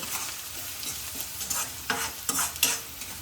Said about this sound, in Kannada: ಓಕೆ, ಈಗ ಮತ್ತೆ ಚೆನ್ನಾಗಿ ಮಿಕ್ಸ್ ಮಾಡ್ಕೋಬೇಕು